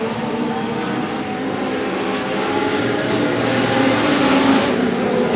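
Legend race cars roar around a track in a feature race, a continuous broad engine drone that builds slightly in intensity, heard from a moderate distance without talk.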